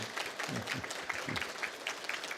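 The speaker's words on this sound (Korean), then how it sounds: "우리 김양숙 권사님에게도 감사의 박수 한번 하도록 하겠습니다" A church congregation at a Sunday service clapping in thanks, fairly quiet and distant, with individual claps loosely audible in an uneven patter.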